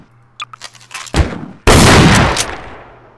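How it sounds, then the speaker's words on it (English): A shotgun fires in Quake played in Gmod, two loud, sharp blasts, the second heavier and followed by a decaying echoing tail, with light clicks before them. "Let's try the shotgun."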